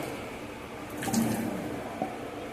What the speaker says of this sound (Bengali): জলটা জলের ভিতরে আমি এইবার লাউগুলোকে দিয়ে দিচ্ছি লাউটা জলে সেদ্ধ হোক